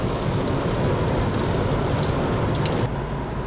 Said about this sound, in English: But it's still raining out there.